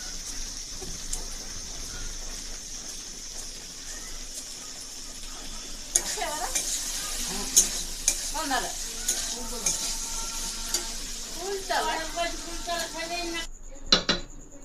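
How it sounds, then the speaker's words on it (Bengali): Pumpkin curry sizzles in a pan in a rural home kitchen while a spatula scrapes and knocks against the pan now and then, close by, with a voice talking over parts of it. "কুমড়োর তরকারি কিন্তু ভাজা হয়ে গেছে"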